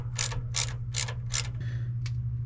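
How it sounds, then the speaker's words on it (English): A ratchet tightens pipe clamps onto an old fuel line on a second-generation Toyota 4Runner: four evenly spaced bursts of clicking, then a softer pass and one short final click, close and fairly quiet. "So now I'm going to take the pipe clamps and cinch them down onto the old pipe."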